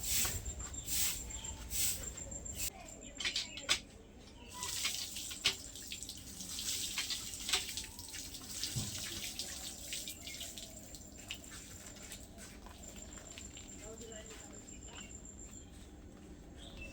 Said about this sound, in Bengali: ফুলগুলো কিন্তু জল দিয়ে আমি ধুয়ে নিলাম